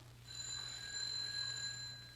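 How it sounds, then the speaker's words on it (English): A single steady electronic doorbell chime rings faintly for about two seconds over a low hum, distant and thin, with no voices. "Ring that doorbell, Anne."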